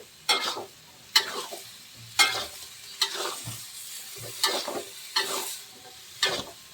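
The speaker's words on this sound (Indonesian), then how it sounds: "Nah ini ditumis sampai bumbunya meresap ya." Tempeh is stir-fried with spices in a pan: a series of scraping, sizzling strokes about once a second, each a sharp stir followed by a fading hiss, close and fairly quiet with no talk.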